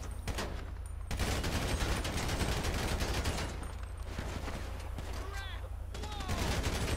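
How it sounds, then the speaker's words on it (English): Gunfire in the video game GTA 5, a dense run of sharp shots crackling steadily through the whole stretch over a constant low game rumble, with a voice talking underneath. "Hey, stop shooting at me."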